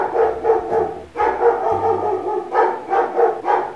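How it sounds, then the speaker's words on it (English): A pet dog barks repeatedly and excitedly indoors, a steady run of loud, close barks with short gaps between them, with no talking over them. "my dog started barking like crazy"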